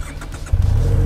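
A Benelli Leoncino 500 twin-cylinder motorcycle engine revs up sharply halfway through, a loud close throaty roar rising from a lumpy idle.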